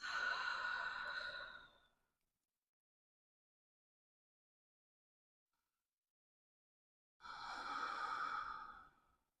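Slow breathing during a yoga session: a long, audible exhale, several seconds of near silence, then another full, soft breath, close and alone with no talk.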